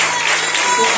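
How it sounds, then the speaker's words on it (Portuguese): Church congregation clapping together during a worship service, a dense, steady wash of applause that carries on evenly throughout without breaks. "Eu gostaria que a igreja desse uma salva de palmas ao Senhor"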